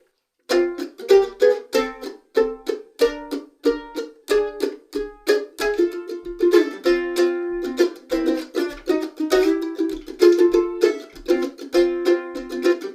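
Mandolin backup rhythm played freely and creatively, with steady plucked chords and fills in a lively pattern, close and clear with no talking.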